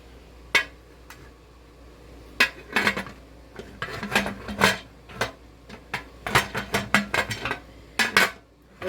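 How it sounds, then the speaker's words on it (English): Metal lid of a pressure canner full of jars of cherry tomatoes being fitted and turned on, with a string of sharp clanks, clinks and scrapes of metal on metal, close and fairly loud, arriving in irregular bursts. "You can see I got my canner full. So we're going to put our lid on."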